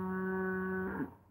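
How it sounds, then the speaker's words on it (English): A cow on a farm gives a single sustained moo, loud and steady with a strong tonal drone that breaks off and fades at the end. "Take a look at that cow."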